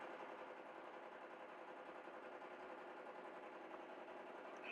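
A sewing machine runs steadily, stitching fabric strips onto a frufru rug along marked lines, a continuous fast mechanical whir with an even, close-up buzz and no talking.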